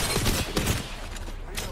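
Rapid volleys of gunfire in a competitive Apex Legends match, several sharp bursts in quick succession up front, then a steady clatter of shots continuing, with voices faintly mixed in.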